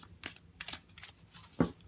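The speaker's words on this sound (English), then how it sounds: "I just shuffle." Tarot cards shuffled by hand in a quiet room: several soft riffling bursts in an uneven rhythm, close and fairly faint, with a sharper snap of cards near the end.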